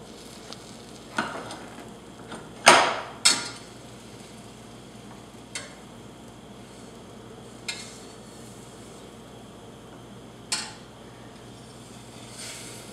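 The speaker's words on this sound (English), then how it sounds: "Once the butter starts to melt, you're going to want to whisk it up until it is evenly mixed" Butter melting and being whisked in a pan for a mac and cheese roux: soft steady sizzle with a few sharp metallic clinks of the whisk against the pan, fairly quiet and without talk.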